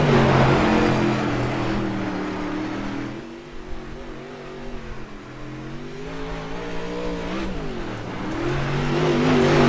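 A race car in a modded racing video game, its engine droning loudly and steadily, dipping as it shifts down and revving back up again, with no talk over it.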